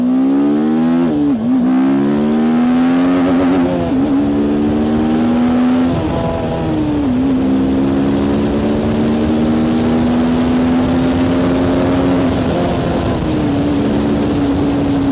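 TVS Apache RTR 310, a 300 cc sport motorcycle, launching hard and accelerating, its engine loud and close, revving up through several gears with brief dips at each shift before climbing again.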